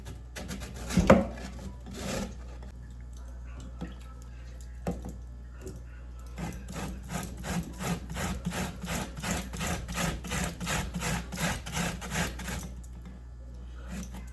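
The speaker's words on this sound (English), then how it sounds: "So right now I'm grating my rich pumpkin." Frozen pumpkin being grated by hand, a few scattered scrapes at first, then a rapid run of rhythmic rasping strokes, close and clear, with no talking.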